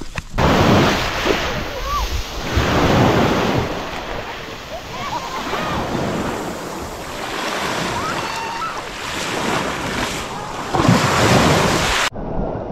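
Ocean waves wash onto a beach in broad, continuous surges with strong wind buffeting the microphone, loud and close.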